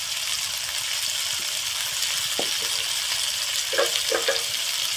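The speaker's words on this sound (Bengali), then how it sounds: "একটুখানি আদা রসুনের পেস্ট দিয়ে দিলাম।" Ginger garlic paste sizzles in mustard oil in a pan, a steady close hiss with a few soft stirring clicks toward the end.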